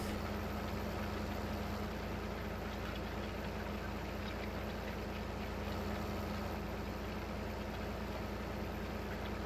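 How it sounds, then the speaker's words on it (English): A tractor engine idles in Farming Simulator 15, a steady low drone that holds evenly throughout with no voices over it. "how come the tractor don't stop?"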